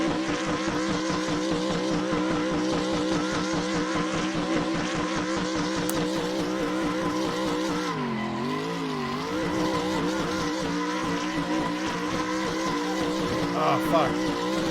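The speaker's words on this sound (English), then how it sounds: "The perfect donut right there." In the Assetto Corsa racing game, a drift car spins a donut at Long Beach with a loud, revving engine wavering in pitch and continuous tire squeal, with a brief dip in revs midway, heard up close alongside a little talk.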